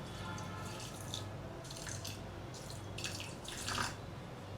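Water is poured from a glass onto sugar in a pot for syrup, giving a faint, steady trickle and splash over quiet room noise, with no talking.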